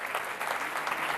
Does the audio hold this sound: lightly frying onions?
no